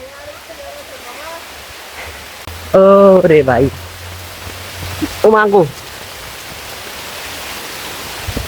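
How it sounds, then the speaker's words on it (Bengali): Heavy rain pours down in a continuous, even hiss, while a person lets out two loud exclamations over it. "কি বৃষ্টিটাই না দেখছেন, কিছুক্ষণের মধ্যে কি বৃষ্টিটা চলে আসছে, বাট বৃষ্টিটা জবরদস্ত হইতেছে।"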